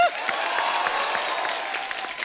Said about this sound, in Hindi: पहले तो इसके लिए तालियां हो जाएं।